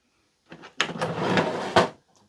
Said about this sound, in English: Push the latch, the drawers open.